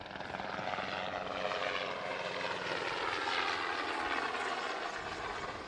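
A helicopter flies over an outdoor track and field district championship meet, its steady rotor and engine drone filling the whole stretch at moderate distance, swelling gently as it passes, with no voices.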